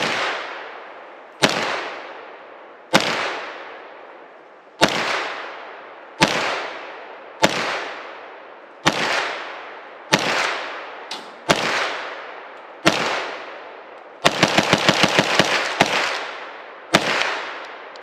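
A Beretta PMX-S submachine gun pistol fitted with an A3-Tactical arm brace firing a magazine outdoors: about a dozen loud, sharp single shots at uneven intervals, each with a decaying echo, plus one rapid burst of several rounds near the end.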